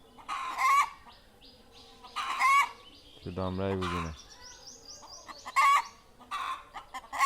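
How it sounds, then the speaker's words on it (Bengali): Chickens cluck and squawk in distress at a poultry stall just after one was slaughtered with a knife, with a brief crowing-like call among the bursts and a person talking between them. "মুরগিরাও চিনে যে একটা জীবন চলে গেল, হাহুতাশ করতেছে বাঁচানোর জন্য, চিৎকার করতেছে।"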